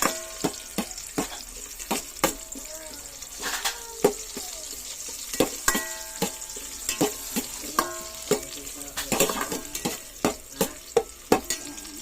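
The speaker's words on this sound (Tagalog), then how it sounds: "Nagisa na natin guys ang ating bawang." Garlic sautéing in a frying pan for lomi with spinach, malunggay and sardines: a steady close sizzle broken by frequent sharp scrapes and clacks of a utensil stirring, no talking.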